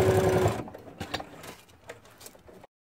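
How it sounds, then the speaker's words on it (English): A sewing machine zigzag stitching hook and loop tape whirs loudly for a moment, then slows into a few uneven mechanical stitching bursts and clicks before stopping. "then you will zigzag it on the sewing machine"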